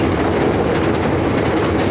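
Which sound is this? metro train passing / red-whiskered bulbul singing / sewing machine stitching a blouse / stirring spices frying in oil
metro train passing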